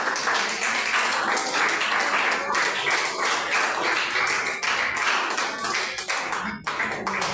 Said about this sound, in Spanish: Den un fuerte aplauso a Dios.